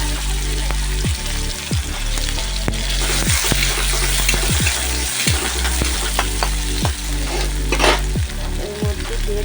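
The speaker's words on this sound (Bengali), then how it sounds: "পেঁয়াজ কুচি দিয়ে দিচ্ছি।" Chopped onion frying in oil left from frying hilsa fish, a loud continuous close sizzle with repeated scraping stirs of the spatula throughout, no talking.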